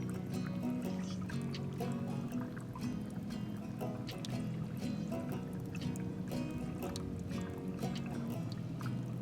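Water trickles and pours steadily in a clear geothermal hot spring amid snow-capped mountains, a continuous close burbling with small splashes and drips throughout.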